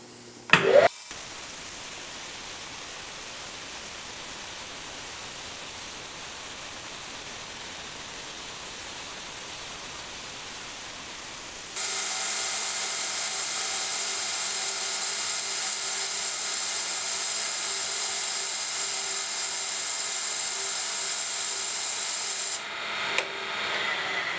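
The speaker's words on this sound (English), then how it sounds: "We're going to cut an inch long slot on the top of this shaft here." A solid carbide ball end mill cuts an inch-long slot into the top of a shaft at about 0.020 depth. After a quiet stretch, a loud, steady hissing whine with faint tonal lines starts midway and runs about eleven seconds before cutting off.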